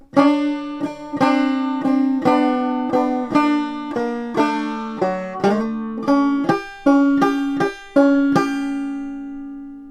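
Clawhammer banjo picks out the turnaround of a blues tune, a steady run of bright plucked notes over a droning string, close and clear with no voices.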